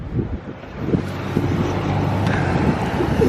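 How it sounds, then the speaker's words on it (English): A loud car driving rumbles close by with a heavy low roar and wind buffeting, steady for a few seconds. "Why is your car so loud?"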